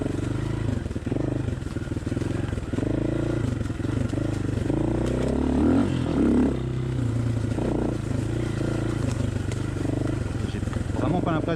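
A Honda XLR125R motorcycle engine fitted with a Chinese CDI from a Honda XL600V Transalp drones steadily and loudly, with the revs climbing and falling throughout.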